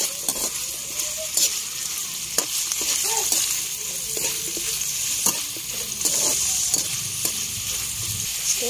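Rice being stirred and fried in a pan for a home-cooked fresh miki pancit dish, a steady close sizzle with repeated scraping stir strokes throughout.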